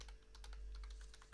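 Computer keyboard typing while entering a MySQL flush privileges command, a quick run of distinct key clicks in an uneven rhythm over a steady low hum, close and fairly quiet with no voices.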